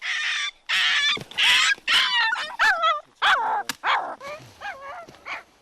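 A frightened feral dog puppy howls and yelps, a run of loud, piercing cries in short bursts with brief gaps between them, close by and alone.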